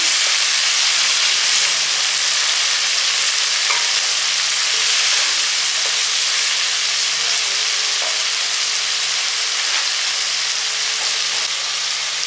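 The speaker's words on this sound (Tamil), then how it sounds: "தக்காளி வந்து நல்லா வந்து மையாக வந்து வதங்கணும்" Finely chopped tomatoes sauté in a hot pan for a spinach gravy, giving a steady, close sizzle and frying hiss with occasional stirring, with no speech.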